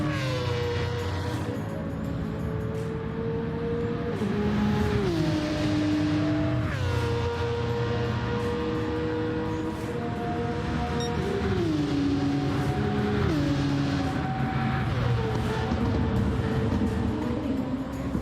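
A race car from Gran Turismo 7 laps Interlagos, its engine droning steadily and loud, pitch stepping up and down through gear shifts and corners, with no talking.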